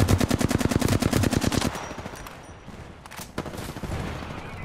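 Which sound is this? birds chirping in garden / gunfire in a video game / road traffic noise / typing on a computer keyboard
gunfire in a video game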